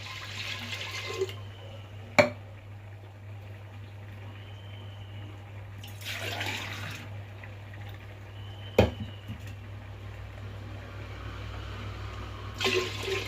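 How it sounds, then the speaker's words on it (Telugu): Water pours in a few separate bursts, splashing and gurgling into a pot of milk, with sharp clinks between pours over a low steady hum. "సరిపడినంత వాటర్ పోసుకోవాలి"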